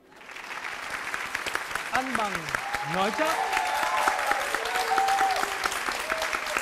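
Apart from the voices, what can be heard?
studio audience applauding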